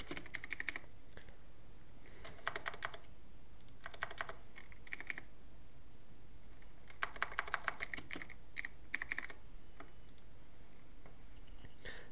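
Computer keyboard typing in a Windows settings search, coming in quick bursts of light clicking keystrokes with pauses between them, close and fairly quiet, no voices.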